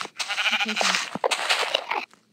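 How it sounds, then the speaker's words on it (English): Sheep bleating in Minecraft Pocket Edition, a dense, wavering animal cry repeating over about two seconds, fairly loud and close. "the sheep is right behind you"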